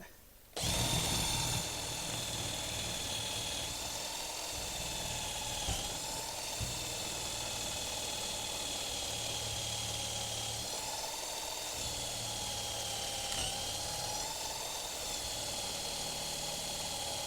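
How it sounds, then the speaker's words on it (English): A power drill bores a 3/8 inch hole through a metal plate while a shed is being fixed. A loud, continuous motor whine holds steady for many seconds with slight dips under load. "Let's get the hole drilled. 3/8 inch hole."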